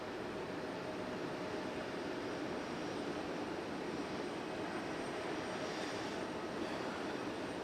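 A Lufthansa airliner at Raleigh-Durham International Airport makes a steady, fairly faint jet engine roar that holds constant without a break.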